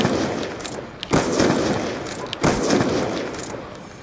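Gunfire in a video game free-for-all match, sharp shots bursting out in clusters with near, loud cracks over a busy background, with voices faintly underneath.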